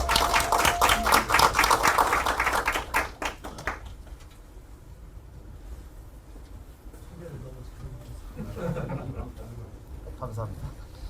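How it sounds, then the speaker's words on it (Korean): Applause welcomes a new member at a Democratic Party induction event, with brisk clapping from a group for a few seconds before it fades into murmuring and shuffling in the room. "박수 부탁드립니다."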